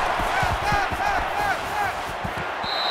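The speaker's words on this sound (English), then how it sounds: "It's arguably the loudest crowd in the nation, and they are turning it up a notch." A loud college football crowd roars at a Miami Hurricanes vs LSU Tigers game, a dense sustained wall of cheering with scattered shouts, heard up close and unbroken.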